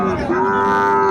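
A Sahiwal bull at a cattle market lets out a single loud, close, sustained moo with a rich tonal drone, heard alone with no talking over it.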